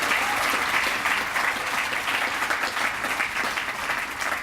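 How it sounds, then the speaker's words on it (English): Sustained applause fills an awards ceremony hall for honoree Larry Rodarte of Mi Gente magazine in Saginaw, a dense, even wash of clapping from a large audience at moderate distance, with a faint voice underneath. "let's give Larry Rodarte from Saginaw, Mi Gente magazine, a big round of applause"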